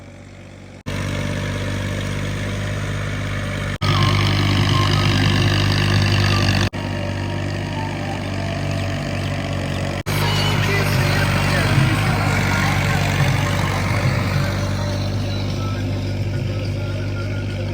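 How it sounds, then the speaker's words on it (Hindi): A tractor working in a flooded farm field, its engine droning loud and close with a steady low rumble and shifts in pitch as it works, with an intermittent beeping tone above it. "अब यहाँ काफी देर देखने को मिलेगा ट्रैक्टर का जोर इस खेत के अंदर"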